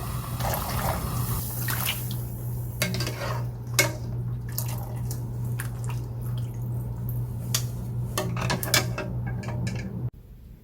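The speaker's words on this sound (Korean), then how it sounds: "그럼 봄동을 찬물에 두세 번 깨끗하게 씻어서" Spring cabbage greens are rinsed in cold water in a kitchen, with splashing, dripping and soft clattering against a bowl over a steady low background hum.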